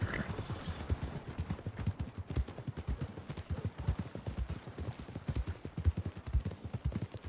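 Horse hooves clip-clop steadily and close in Red Dead Redemption II, a large horse trotting along a set route with an even, continuous rhythm of hoof strikes throughout.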